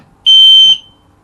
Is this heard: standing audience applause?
no